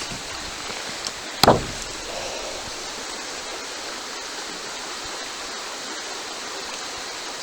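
Creek water flows steadily in Mark Twain National Forest, a constant broadband rush that fills the whole clip at an even level, broken once near the start by a brief sharp knock.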